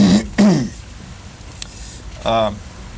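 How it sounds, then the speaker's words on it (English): Two short throat clearings in quick succession, then a pause, a faint click, and a brief vocal sound, close up. "Clear my throat first."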